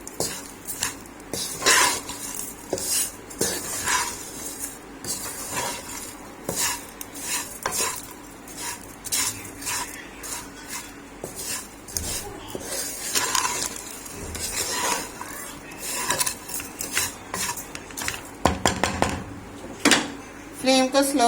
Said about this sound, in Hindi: चीनी को मिक्स कर देना है